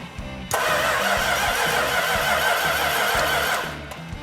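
An engine cranks over with rhythmic starter chugging, catches and runs loud and close for a few seconds, then winds down.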